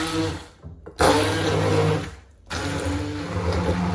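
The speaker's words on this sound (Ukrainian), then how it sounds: "перекладаю в посуд, в якому буде зручно перебивати блендером. І перебиваю до однорідної консистенції" A kitchen blender purees cooked liver into a smooth pâté, a loud, steady whirring motor that cuts off briefly twice before starting again.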